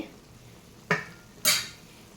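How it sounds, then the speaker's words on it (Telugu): Bottle gourd curry simmering in a pan, with a low sizzle under two sharp stirring scrapes of a utensil against the pan, alone without talk. "సో ఇక్కడ కర్రీ ఉడుకుతుందండి."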